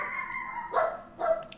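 Several pet dogs bark in a home, two or three sharp yips spaced apart at moderate distance over a quiet background.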